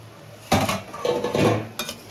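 A metal lid comes off a pot of bottle gourd and egg curry with a clattering clank, followed by a second, shorter clink of metal against the pan.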